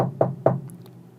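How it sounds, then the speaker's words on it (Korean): Two sharp knocks on a door, close and distinct, spaced about a quarter second apart, followed by a faint soft tap and quiet room tone. "언니에게 전화를 한 후 깜빡 잠이 든 사이 노크 소리가 들렸습니다."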